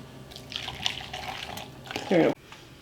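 Liquid pours into a dish while preparing seafood au gratin in a kitchen, a short close splashing gurgle after some quieter background sounds.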